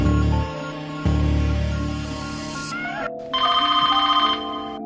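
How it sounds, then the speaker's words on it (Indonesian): Telephone ringing inside a film's central office, repeated electronic bell bursts that pulse in a fast warble over a swelling musical score, loud and close with a brief pause before the final ring. "Telepon yang berbunyi dari kantor pusat tak bisa Berlin abaikan"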